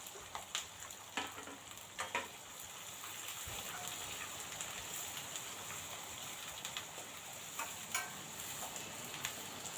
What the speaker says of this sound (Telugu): అలాగే పచ్చిమిర్చి, ఉల్లిపాయలు కూడా వేసుకుంటున్నాను. ఇవి కూడా కొంచెం సేపు ఫ్రై అవ్వనివ్వాలి.